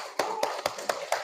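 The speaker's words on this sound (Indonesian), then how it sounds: "tepuk tangan dulu" A classroom gives a short burst of applause: five sharp, evenly spaced claps in quick unison, close and clear, with no voices.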